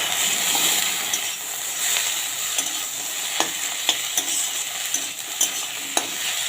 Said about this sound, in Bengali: টমেটোটাকে দিয়েও আমি কিছুক্ষণের জন্য ভেজে নেব